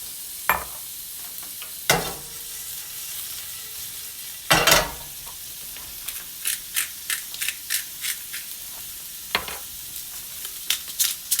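Rinsed canned snails cooking for escargot in a hot pan, a soft steady sizzle marked by a few loud scraping bursts and a run of quick light taps from a utensil.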